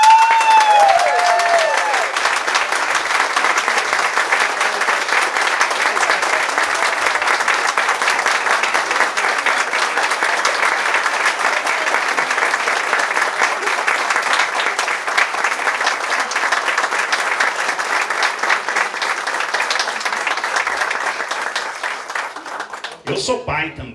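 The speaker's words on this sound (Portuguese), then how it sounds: "transmitir o nosso carinho a vocês também com os nossos aplausos." Prolonged audience applause for hospital staff at the opening of a 24-hour pediatric wing, loud continuous clapping from a crowd with occasional cheers, lasting over twenty seconds before stopping abruptly.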